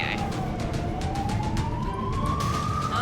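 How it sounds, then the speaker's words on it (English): Siren of an Australian ambulance responding to a call, heard from inside the vehicle. The tone wails steadily, rising and falling over a constant engine and road rumble, with no talk. "let me put a nicer siren on"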